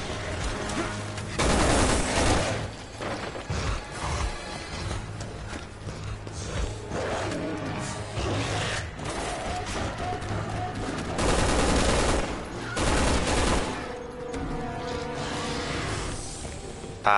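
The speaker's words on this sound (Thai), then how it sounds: "ทำไมช็อตกันเสียงมันยิงเบาเลยวะ" Shotgun blasts and other weapon fire crack through a combat sequence in Resident Evil 6, with repeated loud bursts spread across the stretch over a dense bed of game sound and music.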